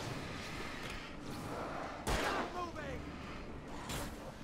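Gunfire in Alan Wake: a sharp, loud shot bursts out midway through, with a second fainter blast near the end, over a bed of game ambience and background voices.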